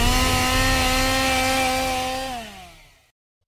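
A chainsaw engine drones loudly at a steady high pitch at a haunted attraction, then winds down and cuts out, leaving brief silence.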